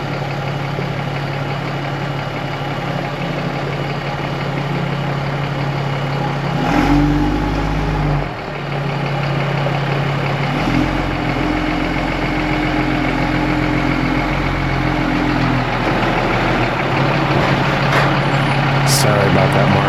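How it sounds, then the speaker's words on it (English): A 6x6 expedition truck's heavy diesel engine idles steadily, then its low rumble shifts and swells as the truck moves off, with changes in engine pitch and brief mechanical noises over a constant loud drone. "Now let's move the truck."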